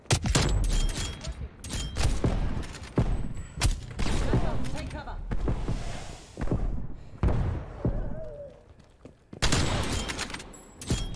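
Sniper rifle shots and heavy gunfire from the video game Call of Duty Black Ops Cold War boom in sharp, loud reports amid thuds and scattered battle noise. Voices talk between the shots.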